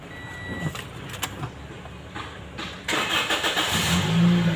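A used former taxi car is started inside the cabin, its engine catching after a few seconds and settling into a steady low idle hum, close and fairly loud.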